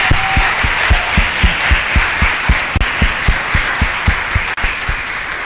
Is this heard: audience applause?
yes